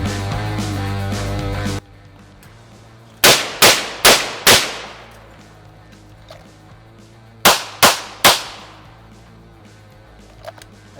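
Gunshots from 9mm and .223 rounds strike reusable painted steel shooting targets, sounding as a sharp cluster of four loud cracks with ringing decay, a quiet pause, then three more, after an earlier steady hum cuts out.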